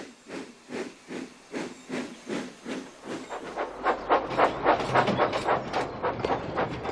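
A steam locomotive chuffs along, producing a loud, regular series of hissing steam puffs that speed up slightly and grow fuller toward the end, with a low rumble underneath.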